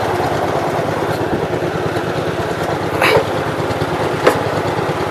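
A hard-starting garden tractor with a sticking intake valve idles steadily up close, its low rumble continuous throughout, with a couple of brief higher clanks or rattles over the engine.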